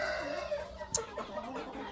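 A sturdy young fighting-breed rooster on a farm gives a brief cluck near the middle, faint against steady outdoor background noise with no talk.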